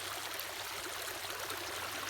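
A stream flowing outdoors, a steady, close hiss of rushing water with no breaks and no voices.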